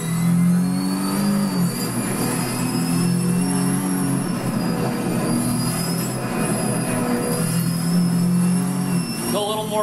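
Porsche 917K race car engine in the Assetto Corsa racing game, a loud sustained high-pitched whine with shifting tonal harmonics that rise and fall with revs, continuous and close throughout with no talk.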